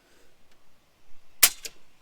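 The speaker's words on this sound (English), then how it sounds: "let's shoot it at the same setting" A single FX Impact M3 PCP air rifle shot, a sharp close crack followed by a brief echo, preceded by faint handling noises in a quiet room.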